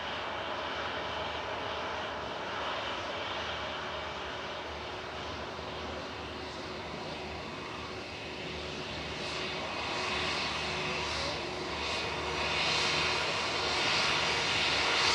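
A departing airliner at Manchester Airport, bound for Stockholm Arlanda, gives a steady distant engine roar that slowly builds and swells louder toward the end, with no talking.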